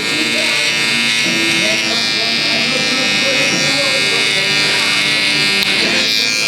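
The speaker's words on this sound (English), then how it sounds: "just go with the edge of the clipper" Coco electric hair clippers buzz continuously and loudly while cutting hair during a low taper haircut, with a voice talking over the steady whine.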